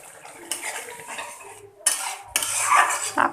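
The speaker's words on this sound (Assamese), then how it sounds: "জলফাই টেঙাটো অকণমান সানি লৈছোঁ পানী অকণমান দি" A metal spoon clinks and scrapes in a bowl while sour jalphai, Indian olive, is stirred with a little water, giving short close bursts of clatter and a brief pause, with no talking.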